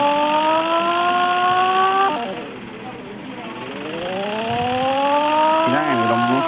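Car engine from a city block driving video game, a steady synthetic hum rising in pitch as it accelerates, dropping briefly, then climbing again with a quick rev near the end.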